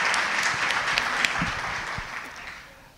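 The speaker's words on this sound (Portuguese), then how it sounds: "palmas para o Levante Popular da Juventude" An audience at a university debate forum breaks into dense, sustained applause. The clapping is full and loud at first, then thins and fades toward the end.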